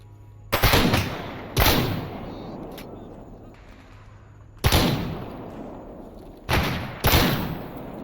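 Gunfire in the Stalker video game, with the Toz-34 shotgun in use: about six sharp, loud shots in an uneven rhythm, each trailing into a short decaying echo, with a faint voice in the background.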